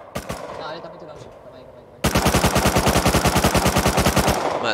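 Rapid automatic gunfire in the video game Rust: a few scattered shots, then a sudden loud sustained burst of evenly spaced rounds lasting over two seconds, with no talk during it.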